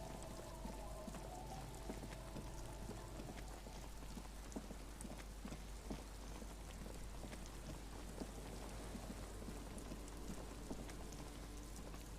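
Rain falls in the video game Disco Elysium outdoors, a faint, steady wash of patter with scattered sharper drops and a low rumble underneath, no talking.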